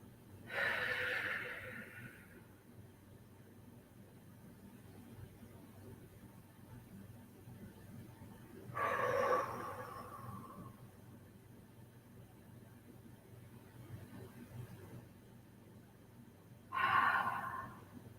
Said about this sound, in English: take 3 deep breaths here